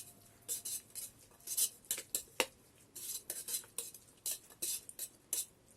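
Vegetables with masalas being stirred in a pan inside an electric kettle, a quick series of metallic spoon scrapes and clinks against the metal in irregular bursts, close but fairly soft, no voices.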